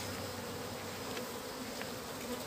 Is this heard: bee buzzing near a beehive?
yes